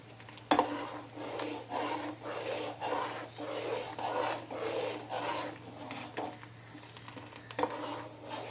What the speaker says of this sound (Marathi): पुन्हा ढवळत राहायचंय.